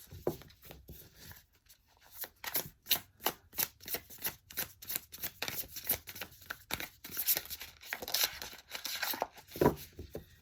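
A deck of tarot cards is shuffled by hand in a steady run of soft, papery riffles and taps, close and fairly quiet, with no talking.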